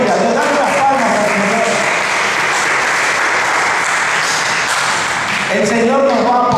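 A church congregation applauds together, a full, steady roar of clapping with voices briefly heard at the start and end as it swells and fades slightly.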